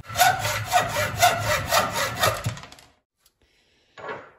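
Handsaw cutting an AHIS handlebar vibration insert on a Yamaha dirt bike, with about five quick rhythmic strokes close up before stopping, followed by silence and one last short rasp.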